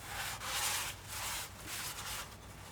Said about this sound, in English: next we'll clean everything up with some brake clean and these blue shop towels